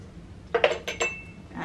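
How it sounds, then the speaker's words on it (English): Teapot handled while about four grams of Suiyuan Long rock oolong tea leaves are warmed in it for a Gongfu tea session: a few soft ceramic clinks and clatters close by, quiet and brief. "now I've got about 4 grams of Suiyuan Long Tea from the Old Ways Tea Company that I'm going to warm up in my pot"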